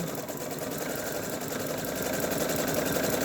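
A sewing machine runs a tight satin stitch on an appliqué, a close, dense, even mechanical whir with rapid needle rhythm throughout and no pauses.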